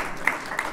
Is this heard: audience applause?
yes